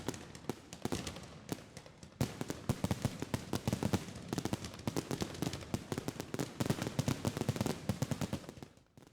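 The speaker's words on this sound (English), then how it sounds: "If you missed the official 4th of July fireworks show from the city of Torrance" Fourth of July fireworks over the Torrance Civic Center crackle and pop in dense, rapid bursts, with sharp distant bangs stacking into a continuous barrage before thinning out at the end.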